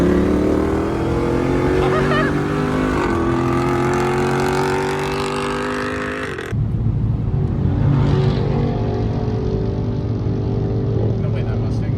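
Street racing cars, a Mustang and a base C5 Corvette, accelerate hard at a midnight Bay Area race, engines roaring loud and steady with rising pitch, then cutting to a closer, rougher engine drone after a sudden break.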